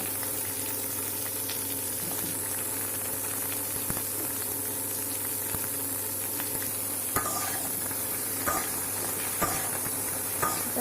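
Elephant apple pieces fry and sizzle in a pan as a spoon stirs them, steady hissing with occasional scraping clicks of the utensil, close and continuous with no talk.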